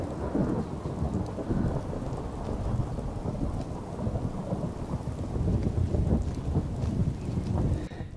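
Heavy rain and rolling thunder from a Skyrim thunderstorm with the True Storms weather mod, a dense, steady downpour with low rumbles swelling throughout, loud and close with no talking.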